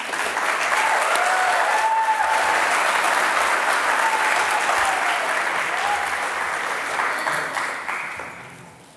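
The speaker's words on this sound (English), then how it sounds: "let's give them a clap." An audience at a Year 12 high school graduation ceremony claps for a student award recipient, sustained even applause filling the hall, with a few cheers or whoops rising briefly before it tapers off at the end.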